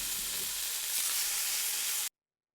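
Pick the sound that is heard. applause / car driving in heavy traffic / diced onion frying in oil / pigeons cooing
diced onion frying in oil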